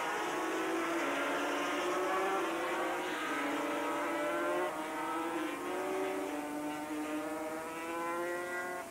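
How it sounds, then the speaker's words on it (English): 250cc racing motorcycles at Amaroo Park in 1981, a chorus of high-pitched two-stroke engines wailing and shifting pitch as a pack rides round, heard from a distance at steady moderate level. "Peter Hinton on 33 as they come round now."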